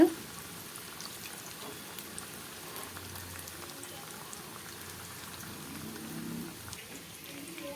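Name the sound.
bitter gourd frying in oil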